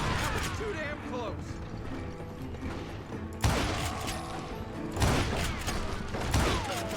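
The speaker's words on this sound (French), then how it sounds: "They're catching us in a crossfire, shouted Billy" Gunfire rings out during a crossfire shootout in the video game Call of Juarez: Gunslinger, with three sharp, loud shot bursts spaced a second or two apart over a busy background of game sound effects and voices.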